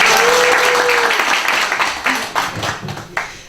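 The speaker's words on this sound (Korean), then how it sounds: "박수." Church congregation applauds to welcome a speaker, a short burst of scattered clapping that fades over a few seconds, with a brief voice near the start.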